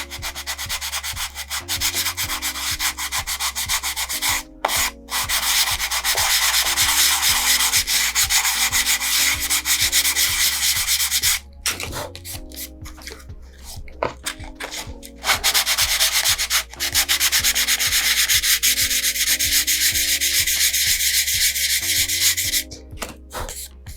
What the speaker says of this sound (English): And now sanding the surface here.